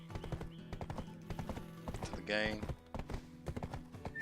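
Horse hooves clip-clop at a steady walking pace in a video game while someone talks over the footsteps, with a brief brighter burst of game sound partway through.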